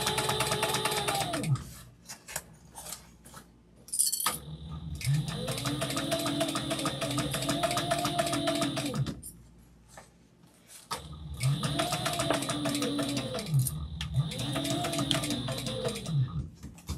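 A sewing machine tacks down fabric on a long stitch length while a Halloween-panel tote bag is made, running in two loud bursts of steady whirring with rhythmic needle strokes, separated by brief pauses and quiet handling.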